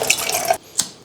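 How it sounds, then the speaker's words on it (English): Hot water is poured from a backpacking kettle into a mug over coffee grounds, a close splashing stream that cuts off abruptly, followed by a single drip. "gradually pour over 8 ounces of water into the mug"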